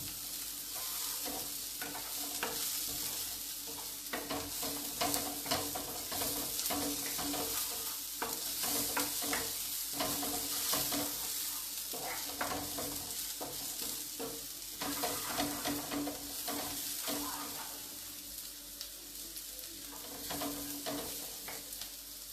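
Onions fry in a pan while being stirred for a Maggi noodle recipe, a steady close sizzle broken by repeated scraping strokes of the spatula, going on without talk.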